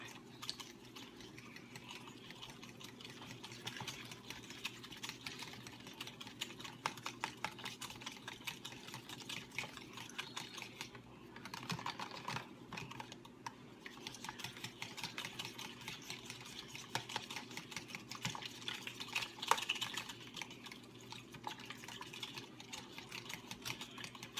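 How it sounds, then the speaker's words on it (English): Vanilla whisked into pumpkin cake bar batter in a bowl, a continuous fast clicking and scraping of the whisk, close and steady throughout. "I'm going to go ahead and whisk that up."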